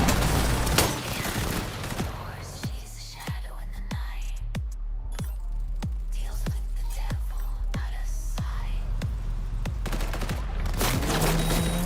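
Repeated gunshots in Cyberpunk 2077 crack out at a steady, evenly spaced rhythm, fairly loud over a quiet game ambience, with occasional faint background sounds between shots.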